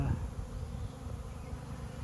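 Swarm of honeybees buzzing around a hive on a goat farm, a steady low drone with no pauses, close and continuous for the full length.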